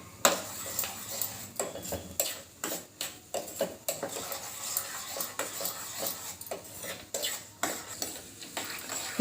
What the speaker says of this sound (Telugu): ఇట్లా లో ఫ్లేమ్ పెట్టుకొని వేయించుకోండి. చూడండి ఎట్లా పగులుతున్నాయి.